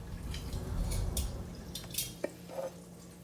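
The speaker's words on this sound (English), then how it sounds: "we want to take a jar with clean water source, usually RO water, and we are going to fill it" Small quiet splashes and trickles of clean reverse-osmosis water being poured into a jar of corn kernels, with light glass clinks and drips, close and soft.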